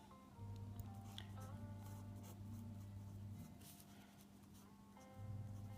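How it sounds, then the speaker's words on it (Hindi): Pen or chalk scratches out a lesson topic by hand in a commerce class, steady strokes of rubbing and scraping with short pauses between words, close and fairly quiet. "तो जल्दी से हम टॉपिक लिख लेते हैं"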